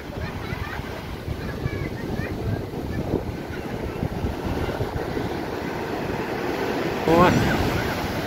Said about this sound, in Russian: Только около берега волна.